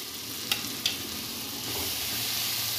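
Bay leaves dropped into hot ghee and stirred, two sharp clicks over a steady sizzle that swells louder and fuller partway through.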